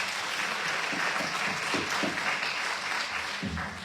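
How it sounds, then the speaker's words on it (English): An audience at a school board and city candidate forum in Liberty Hill gives the candidates a steady round of applause, dense and continuous, with a few louder individual claps near the end. "let's give another round of applause to the candidates and thank them for their time"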